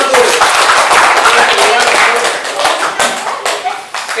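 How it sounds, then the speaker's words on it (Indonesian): Classroom applause for a student group after a presentation, a burst of many hands clapping close and loud, thinning slightly toward the end, with voices mixed in. "Tepuk tangan untuk kelompok"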